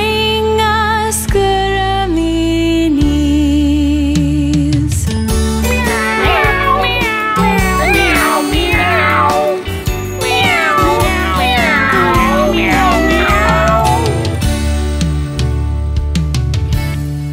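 Cat meowing over a children's nursery rhyme song, repeated sung-like meows in a steady musical rhythm, loud and upfront with instruments underneath.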